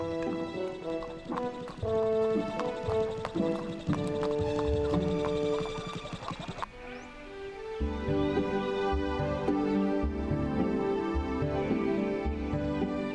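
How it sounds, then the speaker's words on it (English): Horseshoes clip-clop on concrete in a children's cartoon, a steady run of hoofbeats set under busy, bright background music that carries on throughout. "It was great to listen to the sound of horseshoes on the concrete."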